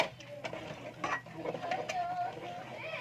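Rubber scraper stirring a thick maja blanca mixture in a pot, giving soft irregular scrapes and knocks close by, with faint background sounds between strokes.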